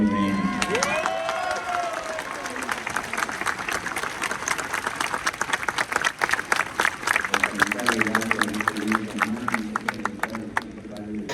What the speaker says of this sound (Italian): il Pontefice ha salutato i fedeli delle 3 diocesi, che hanno risposto con un'ovazione calorosa